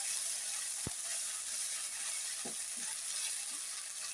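Browned onions with ginger garlic paste sizzle in hot oil in a pan for a bottle gourd dappalam, giving a soft, steady hiss with a few faint clicks and stirring scrapes.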